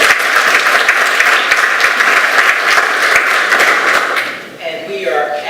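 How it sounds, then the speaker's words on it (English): A room full of people gives a sustained round of applause for a young honoree at a community business gathering, dense clapping that thins out near the end as a voice starts to talk. "please join me in giving him a round of applause"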